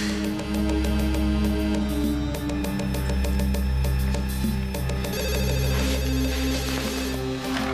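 A telephone rings for an operator-connected call, sounding in a repeated electronic ring pattern over a loud, dense musical background that continues throughout.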